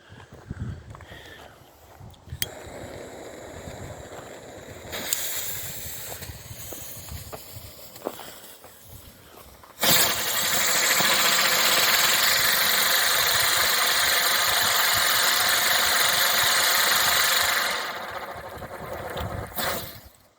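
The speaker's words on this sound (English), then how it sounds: "we're going to start with the Saxon Catherine wheel here" A budget Saxon Catherine wheel firework spins in woodland, giving a loud, steady hissing roar that swells in after a quieter crackling start, holds for several seconds, then fades out.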